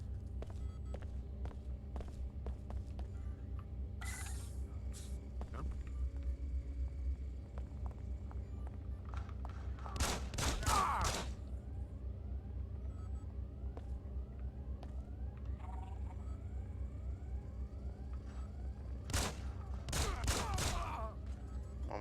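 Gunfire in the Xbox game Deus Ex: Invisible War, a few sharp bursts of shots spaced across a quiet stretch of ambient game hum, moderately loud against the low background.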